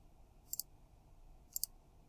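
Two quick double clicks of a computer mouse while working in Inventor 2018, sharp and faint, about a second apart, with near silence between.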